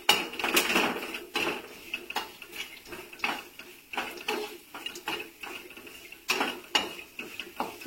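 Puffed rice churumuri is stirred in a pan with a metal spoon, giving repeated close clinks and scraping rattles against the pan in an uneven rhythm throughout.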